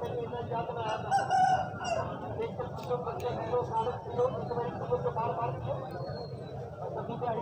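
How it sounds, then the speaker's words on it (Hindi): A rooster offered for sale crows nearby amid steady outdoor background noise and ongoing talk from people close by. "ये है जी मुर्गा"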